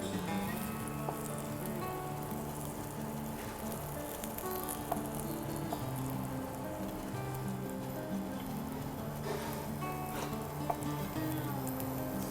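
Veg keema cutlets fry in a pan, a steady rain-like sizzle and crackle running evenly throughout, close and moderately loud with no talking.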